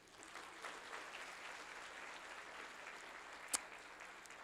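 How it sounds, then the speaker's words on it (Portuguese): A church congregation claps together in praise, a soft, even wash of applause that sounds somewhat distant, with one sharp louder clap standing out near the end. "Vamos aplaudir o nosso Senhor"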